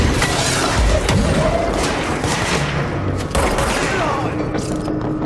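Enemy gunfire pours in continuously during a fight in Control, a dense, loud rattle of rapid shots with booms and mechanical clatter close around the player, with a sharp impact partway through.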